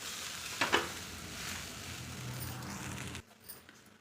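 Curry leaf rice is stirred in a hot pan, with soft sizzling and a couple of sharp scrapes near the start, before the sound drops off abruptly near the end.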